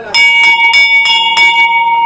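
A hand bell at a budget resort near Panshet, Pune, rung to call for tea: about five bright metallic strikes in quick succession, close and loud, each leaving a ringing tone that sustains between hits.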